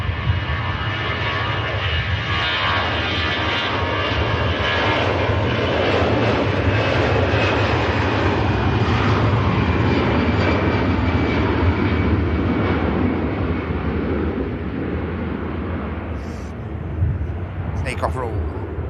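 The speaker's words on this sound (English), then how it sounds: "Takeoff roll." An airliner's engines roar through the takeoff roll at Manchester Airport, a heavy broadband rumble that holds steady and fairly loud, then slowly fades as the aircraft moves away, while someone talks over it.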